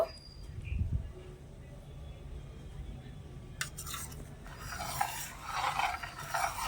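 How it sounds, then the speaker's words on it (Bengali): Vinegar water poured gradually into hot milk while a spoon stirs gently, producing soft bubbling and light clinks against the pot, quiet at first and busier toward the end. "এবার অল্প অল্প করে দিয়ে দেব একদম হালকা হাতে একটু নেড়ে ছেড়ে নেব"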